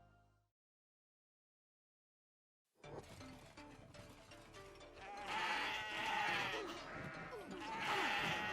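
Goats bleating in the video game Kenshi: after a silent gap, a dense, rising din of overlapping bleats and game noise builds and grows louder toward the end.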